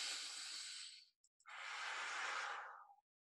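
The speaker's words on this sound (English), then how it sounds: "try breathing in and out with that" Deep diaphragmatic breathing during a vocal warm-up: one long, breathy airflow, a brief pause, then a second long, steady breath of roughly equal length, close and soft.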